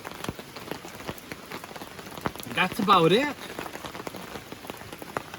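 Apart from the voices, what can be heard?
rain falling on a river sluicing site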